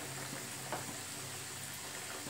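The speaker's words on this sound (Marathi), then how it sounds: "इथे आपण कढईमध्ये 2 समोसे टाकलेले आहेत." Two samosas frying in hot oil in a kadhai, a faint continuous sizzle with soft crackles.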